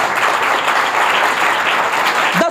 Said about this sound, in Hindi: एक जोरदार ताली बजाएं जरा यीशु के लिए।